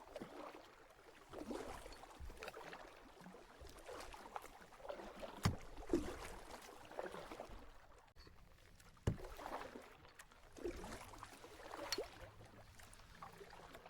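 Kayak paddle strokes dip into water at a steady, unhurried rhythm during a long crossing in cold rain, with soft splashes and drips over a constant wash of rain and light wind.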